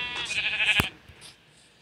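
A single sheep bleats in a Minecraft video game, a short harmonic cry in the first second, followed by faint game sounds with no talking.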